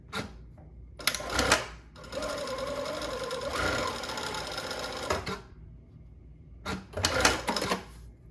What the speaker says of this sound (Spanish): Vamos a coser.